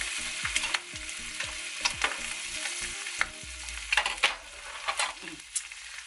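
Eggs frying in butter with hot oil crackling and spitting steadily, sharp pops and sizzles up close alongside repeated stirring scrapes in the pan, no talking.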